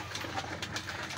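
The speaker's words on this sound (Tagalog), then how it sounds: "Ayan yung isinali natin ibon." Racing pigeons coo softly in a short burst, close by and low, with no talk over them.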